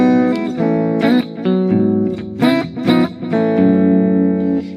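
A clean electric guitar tone from Bias FX 2 on iPad with the chorus effect off, a sequence of bright plucked notes and chords ringing out clearly with no talking.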